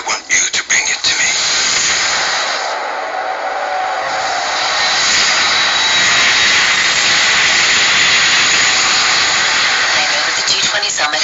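A jet airliner carrying cargo from Bangkok to Berlin roars with a steady, loud broadband engine rush that swells slightly and holds for about eleven seconds, with a brief quieter dip near the start.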